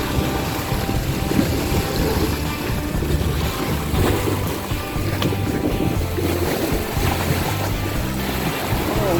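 Sea waves at Lan Pho market in Na Kluea, Pattaya, a loud continuous wash of surf with wind buffeting the microphone and a low rumble underneath, steady throughout.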